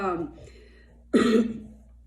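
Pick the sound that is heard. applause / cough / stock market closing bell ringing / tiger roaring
cough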